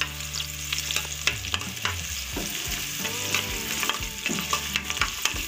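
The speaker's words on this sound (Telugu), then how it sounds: "కొంచెం మీడియం సైజ్ ఆనియన్ ఒకటి తీసుకోండి. నెక్స్ట్ అవి ఒకసారి ఫ్రై చేసుకుందామండి." Medium-size onions fry in a pan for egg fried rice, a steady close sizzle with frequent stirring clatters and scrapes, no talking.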